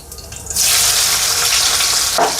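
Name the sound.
crushed garlic frying in oil with cumin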